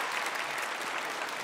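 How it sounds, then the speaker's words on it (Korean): A church congregation applauds the choir in a dense, continuous burst of clapping that fills the hall evenly, with no voices standing out. "우리 다시 한번 큰 박수로 우리 격려하면 좋겠습니다."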